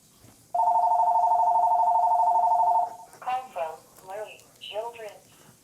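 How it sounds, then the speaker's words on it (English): A telephone gives one long, loud electronic tone lasting about two seconds, then someone talks over the quiet room afterward. "you have to excuse that phone there."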